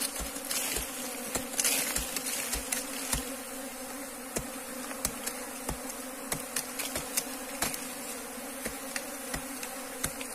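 A swarm of bees hums around a hive that is about to split, a dense, steady buzz that runs throughout with faint scattered ticks and taps and no talking.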